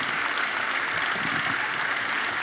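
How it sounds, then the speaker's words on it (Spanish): An audience at a climate-change panel event applauds the panelists, moderately soft, even clapping that continues steadily without pause. "Un aplauso para nuestras queridas panelistas"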